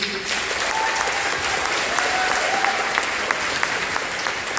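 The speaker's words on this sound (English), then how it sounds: "So just round of applause to you" An audience at a community activism event applauds an award-winning activist team and its advocates, with dense, steady clapping that fills the room evenly throughout.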